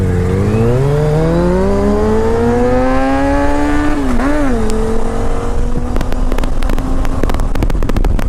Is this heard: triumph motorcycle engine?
yes